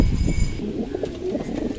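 Pigeons coo softly at close range in a pigeon loft, low throaty murmurs repeating in an uneven rhythm over a steady room background with no talking.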